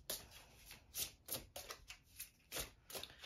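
Tarot cards are shuffled and drawn by hand, a quick close series of soft riffling flicks and slaps in an uneven rhythm, faint and without talk.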